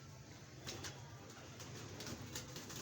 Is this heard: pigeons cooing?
yes